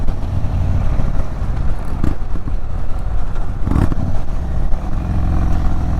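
A Stage 2 2022 Indian Chief Dark Horse motorcycle engine, a loud, continuous low rumble while riding, with a couple of sharp clattery blips.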